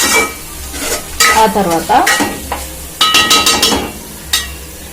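Chicken masala being stirred and mixed in a hot pan, with scraping, clinking spoon strokes over a steady sizzle of frying, close and fairly loud; a voice speaks briefly.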